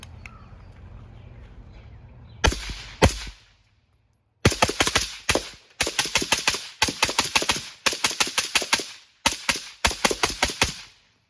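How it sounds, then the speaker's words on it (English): A rifle fed from Amend2 magazines fires about 30 rounds in sharp, loud bursts and quick strings of shots with brief pauses between groups, after a short stretch of quiet background. "first I'll just grab the control and throw 30 rounds through the gun"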